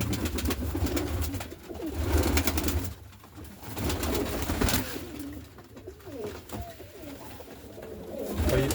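Sumy breed pigeons coo in a steady, close flock, their soft throaty calls overlapping and rising and falling over a low background rumble with no speech.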